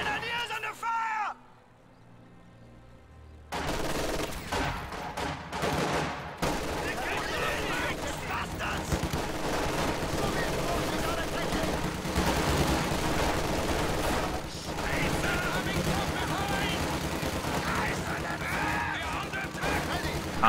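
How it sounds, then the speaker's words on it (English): Gunfire and battle noise in a World War II strategy game, with rapid shots and explosions layered over a continuous din after a brief quiet opening, while voices shout and talk. "Grenadiers under fire!"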